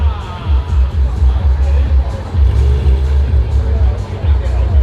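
A Porsche GT3 RS pulls away from a busy car meet, its engine note rumbling low and steady amid crowd chatter and other passing cars.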